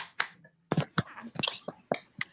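Schoolchildren over a video call clap a rhythmic class cheer, a few sharp separate claps with short gaps between them, faint and slightly uneven.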